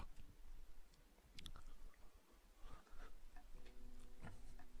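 A quiet, flamboyant-looking clock ticks in a Broken Sword 5: The Serpent's Curse game scene, sounding as faint, steady clicks over a soft ambient bed with no talking.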